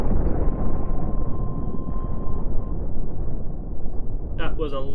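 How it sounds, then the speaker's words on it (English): A ship blows up in the space game Cosmoteer, a sustained deep rumbling roar of broadband noise that fills the whole clip without easing, ending with a brief burst of higher electronic effects. "That was a lovely explosion."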